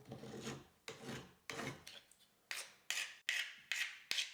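A hand file rasps along the edges of a router part to break them, about nine short, separate strokes in an uneven rhythm, close and fairly quiet with pauses between.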